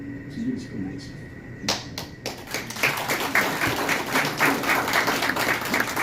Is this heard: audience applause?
yes